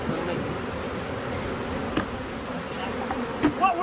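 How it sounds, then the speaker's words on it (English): Honey bees buzz densely in their hives as the colonies are checked before being shipped to California, a continuous close drone with a few sharper passes near the end. "we're going through these bees and getting them ready to go to California"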